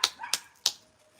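A dog barks three short, sharp times at a door indoors, each yip spaced evenly and fairly close, then quiet.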